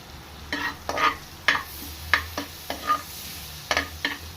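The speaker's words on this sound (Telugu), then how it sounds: "బటర్ హీట్ ఎక్కాక గరం మసాలాలు వేసుకుందాం." Garam masala sizzling in hot butter in a pan, with a constant low fry beneath a series of crisp scraping and tapping strokes from a stirring spoon, close up and with no talking.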